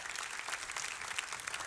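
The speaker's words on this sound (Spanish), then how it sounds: "dale un fuerte aplauso al Señor" Church congregation breaks into dense, steady applause filling the hall, many hands clapping at once for a short burst.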